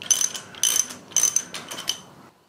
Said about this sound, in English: I don't know whether it's going to move when I tighten these bolts up